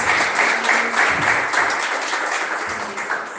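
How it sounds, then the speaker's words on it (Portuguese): A church congregation claps loudly and steadily in welcome, a full, even roar of many hands that tapers slightly toward the end. "Vamos receber a pastora Nadir aqui, com palmas bem fortes para Jesus."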